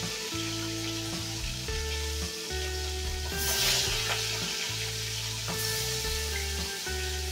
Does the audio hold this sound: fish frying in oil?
yes